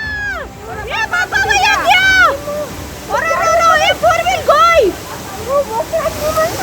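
Monsoon floodwater rushes through a street in Junagadh, a steady roar of water running under loud, overlapping shouts and wailing cries from people nearby.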